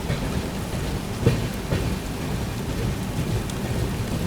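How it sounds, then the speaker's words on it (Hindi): Heavy monsoon rain pours down in a dense, continuous hiss, heard aboard a train in northeast India, with a faint rumble of distant thunder underneath. "बढ़िया नॉन स्टॉप बारिश हो रही है भाई"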